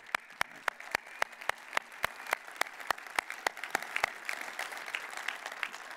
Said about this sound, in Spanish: os merecéis un aplauso todos los chicos de la ruta